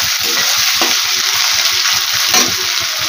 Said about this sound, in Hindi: तो चलिए प्याज को भून लेते हैं।